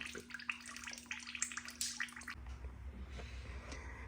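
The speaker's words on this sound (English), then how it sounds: "First thing we're going to do, starting off with this time cover, is drain our coolant." Coolant draining from the radiator of a 1995 Dodge Dakota with a 3.9 engine, a steady watery trickle and splash with a low gurgle that grows fuller partway through, close by with no talking.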